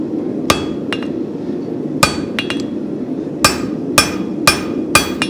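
Hammer blows on a horseshoe weld at the edge of an anvil while forging a spavin shoe, about ten sharp ringing strikes in irregular clusters, close and loud over a steady low forge roar.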